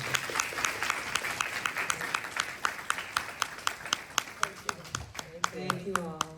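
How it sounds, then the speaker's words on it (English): A small audience claps for panelists, a sparse crowd with sharp individual claps in a steady rhythm, moderately close, and a voice speaks briefly near the end. "Can we please have a round of applause for our panelists?"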